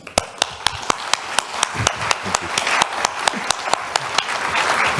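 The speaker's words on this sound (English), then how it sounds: "I think he deserves a thundering round of applause" Audience applause and clapping at a technology keynote forum as the speaker arrives from Singapore, a dense, steady round with sharp individual claps standing out throughout.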